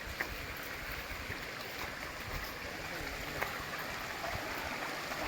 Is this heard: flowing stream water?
yes